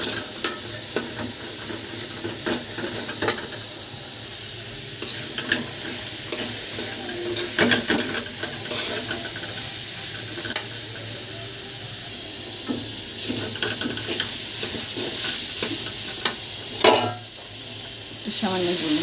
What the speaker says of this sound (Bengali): এখন এই মরিচ দিয়ে এইভাবে ভেজে নেব।